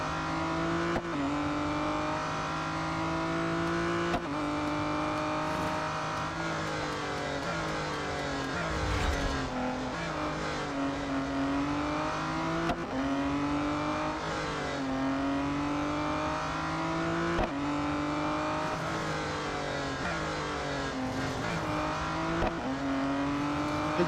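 Racing car engines in Real Racing 3 roar continuously, rising and falling as gears shift and cars accelerate, with brief drops and surges in pitch, loud and steady with no talk.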